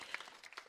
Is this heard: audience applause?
yes